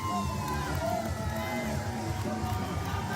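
A crowd cheers and shouts at a local wrestling event, a dense, steady roar of voices and whoops filling the whole moment without a break.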